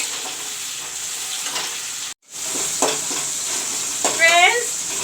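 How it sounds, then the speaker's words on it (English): Tomatoes frying with onions in hot oil for a simple vegetable curry produce a constant close sizzle, briefly cut off once, with a few spatula scrapes and a short vocal sound near the end. "I will let the tomatoes fry along with the onions"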